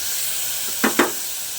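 Spice paste hits a hot pan of potatoes and softened tomatoes with two quick sizzling bursts over a steady frying hiss, close up, with no talk.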